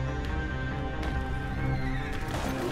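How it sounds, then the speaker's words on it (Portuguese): A horse in the Western video game Red Dead Online whinnies loudly and clearly, with hoof clip-clop mixed into the busy game soundscape and no talking. "Cavalo, mano, que estranho."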